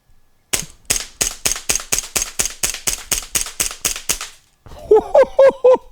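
An Elite Force 1911A1 airsoft pistol fitted with an ACETECH Brighter C tracer unit fires about fourteen sharp, evenly spaced snaps in quick succession, followed after a brief pause by a few louder clunky clicks with a metallic ring.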